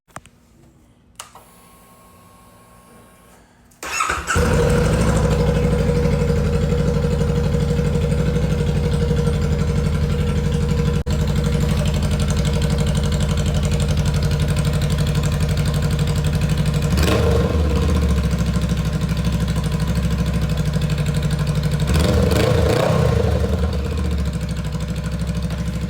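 A motorcycle fitted with a Radiance Cycle shortie exhaust fires up after a brief quiet start, then settles into a loud, steady idle close by, with two short throttle blips late on and no talking.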